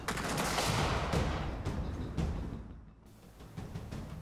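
Dense gunfire in Gears of War 4 during a sniper fight, with overlapping sharp cracks and continuous battle noise that dips briefly near the end and then resumes.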